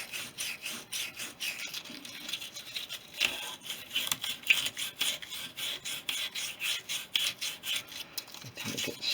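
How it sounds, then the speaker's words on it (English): Emery wet-and-dry paper rubbed briskly against a rusty fork tube of a Suzuki GT380 motorcycle, a rapid back-and-forth rasping close up, steady and rhythmic throughout. "Let's get a bit of emery in there. A bit of wet and dry out. Just clean the rust out."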